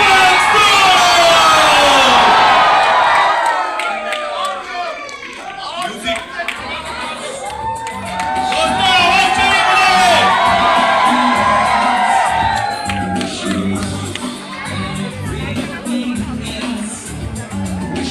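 A large audience at a marketing company event cheers, whoops and shouts loudly and continuously as the founder is introduced, with crowd noise swelling, dipping, then rising again.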